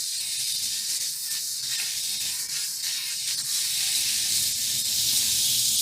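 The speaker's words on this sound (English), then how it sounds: "Now let's fry it well until the meat is browned and the onion and garlic are well cooked too." Meat, onion and garlic fry in a pot over medium heat for a Japanese one-pot dish, giving a steady, close, bright sizzling hiss throughout with a few faint stirring shifts and no voices.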